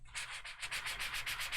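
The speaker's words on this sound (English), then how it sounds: "let's just see what happens if we get sanding block out" A sanding block scrapes over paper to distress it, making a steady run of close, rhythmic strokes, each a bright rasping swish that repeats about every tenth of a second.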